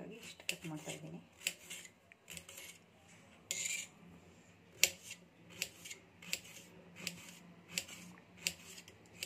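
A knife cuts raw mango into small pieces for pickle, giving a quiet, irregular series of sharp taps and clicks on a cutting surface at close range.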